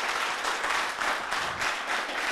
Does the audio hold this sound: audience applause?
yes